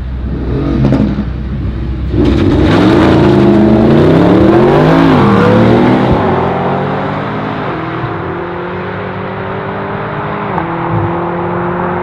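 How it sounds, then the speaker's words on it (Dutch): A McLaren 650S engine revs hard and accelerates in a drag race, its pitch climbing through gears before settling into a loud, steady drone. "Het bescheiden geluid van een McLaren."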